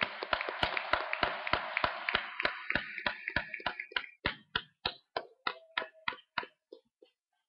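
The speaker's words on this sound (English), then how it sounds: "So I just want to give a big round of applause to all of you who contributed" Applause from a round-table panel audience, dense and steady at first, then thinning into a few scattered, separate claps before stopping.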